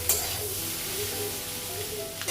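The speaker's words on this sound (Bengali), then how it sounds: "ডিম ভাজা" An egg fries in a pan with a loud, steady sizzle, a continuous hiss that is close and unbroken for the whole stretch, with no talking.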